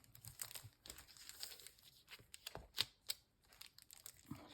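Packaging being unwrapped, close crinkling and tearing of plastic wrap in irregular bursts with a few sharper crackles.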